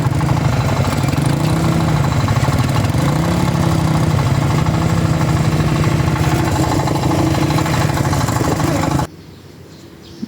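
A motorcycle engine idles on a river-crossing raft in Abra with a low, throbbing rumble, loud and close, then cuts off abruptly near the end.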